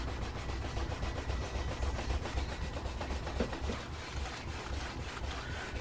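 Piece of canvas cloth rubbed briskly along the stitching holes of worn leather on a bike tool pouch, a quiet continuous rasping scrub with quick back-and-forth strokes, close and soft with no talk.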